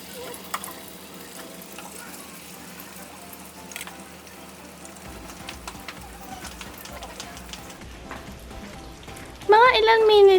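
Lumpiang togue spring rolls frying in oil, heard as a steady close sizzle with crackling pops throughout, and a brief tonal sound rising over the sizzle at the very end.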